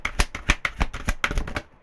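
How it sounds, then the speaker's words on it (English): Tarot card deck being shuffled by hand, a rapid run of crisp riffling snaps in quick bursts, close and clear, with no talk over it. "Some decks work better than others with shuffling."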